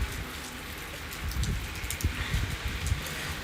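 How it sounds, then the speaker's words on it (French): Steady rain pours down outdoors, a dense constant hiss with scattered heavier drops and soft thuds close by, continuous throughout with no voices. "je pense pas qu'elle va passer cette putain de pluie de malheur en fait"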